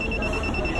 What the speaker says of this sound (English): The alarm is on now.